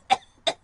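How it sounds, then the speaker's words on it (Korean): Two short, sharp coughs driven by phlegm, close and distinct, with a brief pause between them. "갑자기 많아진 가래를 내보내기 위해 우리 몸은 기침을 하게 되죠"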